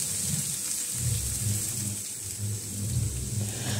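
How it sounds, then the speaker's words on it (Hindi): Pumpkin frying in hot oil in a pan over high flame, a dense continuous crackling sizzle with low rumbling pulses underneath, close and steady throughout, no talk. "आप देख सकते हैं अच्छे से तेल में फ्राई कर लेंगे अपने कद्दू को"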